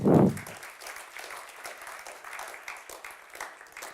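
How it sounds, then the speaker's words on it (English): An audience at a Berlin panel event on Asia and Europe gives a burst of applause. It opens loud, then settles into steady, moderately dense clapping that carries on throughout. No talking. "So please give it up a very big applause"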